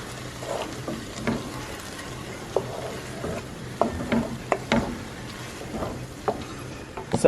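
Seasoned shrimp stirred in a pan gives a low background sizzle with irregular scraping and tapping of the utensil, several clicks close together near the end.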